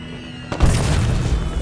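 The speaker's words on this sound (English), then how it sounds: "Oh, that's a firework. Here goes an explosion." A single deep firework boom in the video game Bully, striking suddenly after a quiet moment and trailing off into a low rumbling tail.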